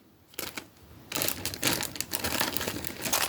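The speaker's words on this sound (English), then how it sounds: "Sorry for the bag rustling." A plastic bag rustles and crinkles up close during jewelry making, starting with a few short crackles, then building into sustained crumpling with scattered louder crinkles.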